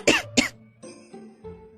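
A woman coughs violently after choking, two sharp loud coughs followed by softer wheezing, strained breaths, heard up close without talk.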